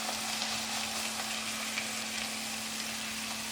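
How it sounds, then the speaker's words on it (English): Steak searing in a hot pan gives a steady, dense sizzle that holds evenly from start to finish, close and moderately loud, with no talking over it. "You're gonna take your piece of steak and you're gonna lay that baby in the pan"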